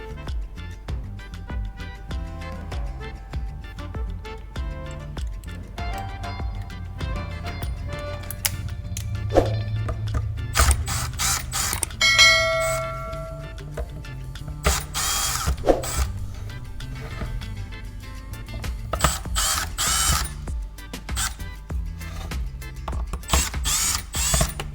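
Small screws are backed out of a cordless drill battery's outer casing, with repeated ratcheting clicks of a screwdriver, light metallic taps and handling of parts, close up and alone without speech.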